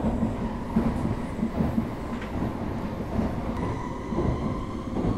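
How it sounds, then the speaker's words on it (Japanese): A Tokaido Shinkansen Nozomi high-speed train rolls along steadily near Musashi-Kosugi with a rumbling roar, and faint rhythmic clatter from the wheels passing over rail joints. "このね武蔵小杉の辺りのジョイント音ね自分結構好きなんですよガタンガタンっていうのがね"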